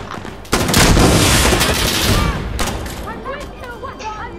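Heavy automatic gunfire in the shooter game Insurgency: Sandstorm, a dense loud burst of rapid shots that rings out and fades, followed by scattered distant shots, with people talking during the fight.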